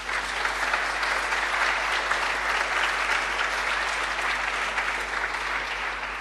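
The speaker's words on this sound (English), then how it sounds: "Please give him a warm applause." Sustained applause from a conference audience at a hacker camp talk, dense steady clapping filling the room for several seconds without a break.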